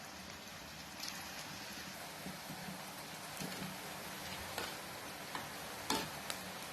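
Small balls of idli batter bonda fry in hot oil, a steady close sizzle with occasional pops and crackles throughout.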